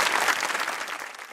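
Studio audience applauding on a Hindi comedy talk show, a dense steady wash of many hands clapping at once, loud and close, holding evenly throughout with no voices.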